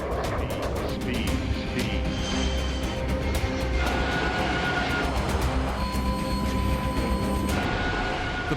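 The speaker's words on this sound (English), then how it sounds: "The plane touches down" An overweight Airbus A380 airliner touching down with only around half its brakes working, a steady loud roar of engines and rumbling wheels that holds throughout with no speech.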